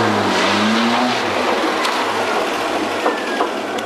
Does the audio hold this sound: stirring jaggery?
no